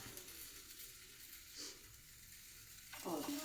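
Food frying in a pan on a home stove, a steady soft sizzle and hiss close by with a brief louder spatter near the end.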